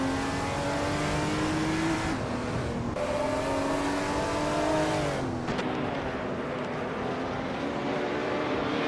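Porsche 936 race car engine in a racing video game, a steady high-pitched whine holding near-constant revs, with brief dips as it shifts gears, loud and continuous with no voices.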